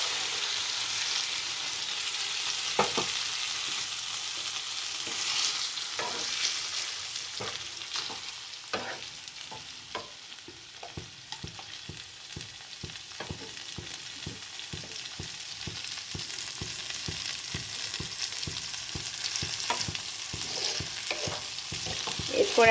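Green pea paste is fried and stirred in a wok: a soft, continuous sizzle runs underneath, broken by repeated scraping strokes of a spatula that come in a fairly regular rhythm, close by and at moderate volume.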